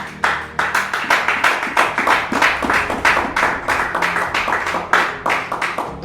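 A congregation in a church applauding to acclaim Jesus: loud, close, rhythmic clapping in steady unison beats, sustained for several seconds.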